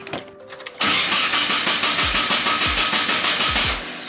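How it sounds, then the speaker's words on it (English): A Nissan 240SX engine cranks over and over with a rhythmic whirring churn, repeatedly turning without catching, loud and close. "let's try and see if the car turns on"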